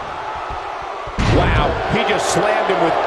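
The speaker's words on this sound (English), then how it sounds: "Slammed him with ease." A wrestler body slam in the WWE 2K19 video game lands as one sudden heavy thud followed by a crowd roar, under an announcer talking over the match.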